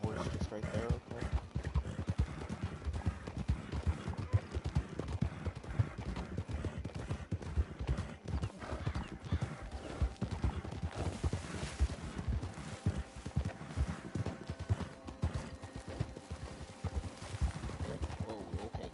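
Rhythmic hoofbeats clip-clop steadily at a walking pace in Red Dead Redemption 2 Online, mixed with other game sounds and voices talking over them.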